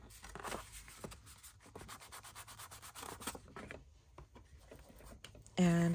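Folded paper for a pocket ephemera holder is distressed by hand, producing quiet repeated scratchy rubbing strokes in short bursts, close and soft, ending with a brief louder tone.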